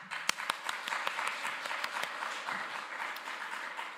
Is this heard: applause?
yes